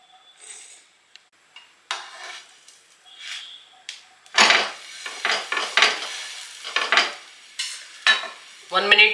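Slices of bread toasting in a pan over a medium flame for a potato masala sandwich, with soft sizzling, scraping and stirring clatter in irregular bursts, close by and without talk.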